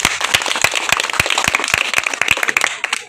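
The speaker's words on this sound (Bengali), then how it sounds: "সবাই হাততালি দেন।" An audience at a Hare Krishna chanting gathering claps steadily for about three seconds. The claps come as dense, loud, crackling hits with no talk over them.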